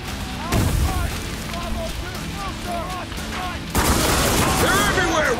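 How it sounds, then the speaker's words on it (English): Grenade blast and rattling gunfire in the shooter game Spec Ops: The Line, with a sharp boom at the start, scattered shots and combat noise, and a second louder burst of firing and explosions near the end. "Oh, grenade."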